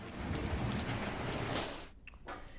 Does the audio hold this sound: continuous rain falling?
yes